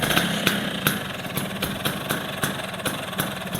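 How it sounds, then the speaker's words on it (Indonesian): A 1980s Vespa scooter with a right-side racing exhaust idles steadily, its loud, close engine chugging with regular pops and thumps roughly every half second. "Next kita coba nyalain ya biar bisa dengar suara mesinnya kayak gimana."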